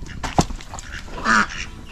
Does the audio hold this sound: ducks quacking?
yes